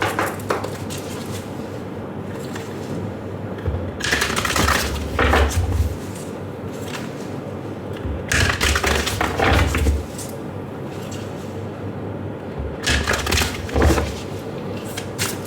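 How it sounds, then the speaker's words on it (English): Tarot cards are shuffled in three separate bursts of crisp riffling and rustling up close, with quiet pauses between them and no talking. "Let me first shuffle your cards."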